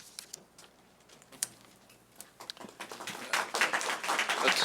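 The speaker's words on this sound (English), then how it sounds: "I'd ask you not to be applauding after every speaker" Board meeting audience clapping, starting as scattered isolated claps and swelling into dense, sustained applause toward the end, moderately close in a meeting room.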